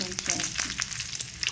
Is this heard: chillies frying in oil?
yes